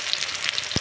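Onion and ginger-garlic paste frying in hot oil for a potato curry, giving a brief, close, steady hiss of sizzling with a soft low knock near the end.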